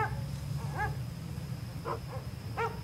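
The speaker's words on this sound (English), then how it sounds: "They're barking at each other." A few short, high yelping barks from dogs, spaced irregularly over a low steady hum.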